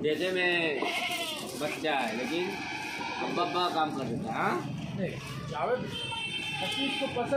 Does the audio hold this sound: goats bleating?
yes